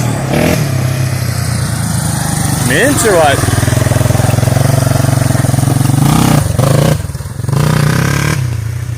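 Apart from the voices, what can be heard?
Yamaha Warrior 350 quad engine revving and idling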